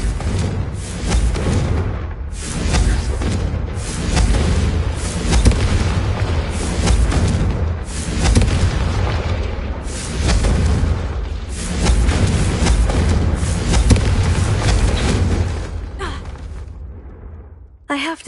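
Repeated Confringo fire-spell blasts in a Harry Potter video game, a steady run of loud booming bursts lasting many seconds, with game voices speaking through the explosions.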